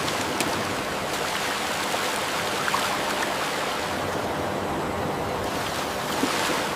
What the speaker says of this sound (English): water flume carries each watermelon forward with precision and control.